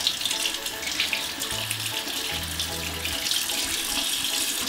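Homemade lavender soap washed under a running tap, a steady splash of water into a sink with a few faint low tones underneath, close and continuous with no talking.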